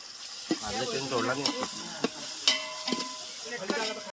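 Tomato, chili and ginger frying and being stirred in a pan at an outdoor farm party, a steady sizzle broken by sharp scraping clacks of the spoon against the pan.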